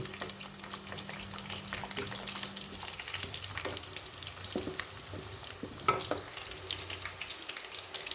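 Amla, Indian gooseberries, frying lightly in oil for a chutney, a soft continuous sizzle and crackle with occasional stirring clinks and pops, fairly quiet and close.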